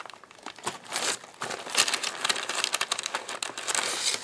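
A stack of Kool-Aid dyed paper is crumpled and crinkled by hand close to the microphone, giving continuous crisp, crackling rustles in uneven bursts with no talking.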